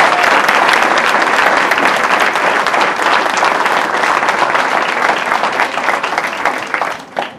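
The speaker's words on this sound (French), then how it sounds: "Vos applaudissements pour Sakina." A town-hall audience at a municipal New Year's address in Villeneuve-le-Roi claps loudly and steadily for several seconds, a dense roar of applause that tapers off at the end.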